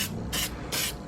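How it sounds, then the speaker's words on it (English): Etch primer sprays from an aerosol can onto a piece of intake pipe in short, close hissing bursts, several quick spurts separated by brief gaps. "So I've hit my piece of pipe with the etch primer."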